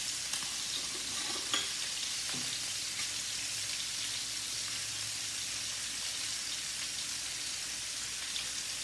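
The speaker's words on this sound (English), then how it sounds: "So what I'm doing right now is I'm already searing the pork in the pan" Pork sears in a pan with a faint, steady hiss of sizzling fat, like light rain, and an occasional soft tap, heard from a distance without talk.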